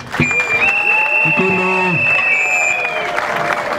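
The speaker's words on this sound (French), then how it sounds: "Il mérite aussi vos applaudissements" An audience at the inauguration ceremony of the Mulongwe bridge in Uvira, South Kivu, applauds, clapping under a sustained high tone and scattered voices, with some talk mixed in.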